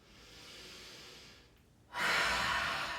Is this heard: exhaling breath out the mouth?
yes